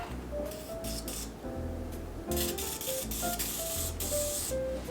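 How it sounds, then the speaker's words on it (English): Hissing bursts from an aerosol can of butter cooking spray onto a pie crust, several short sprays in a row, close by, over a steady background hum. "I'm going to take this can of butter and I'm just going to spray this pie crust with it"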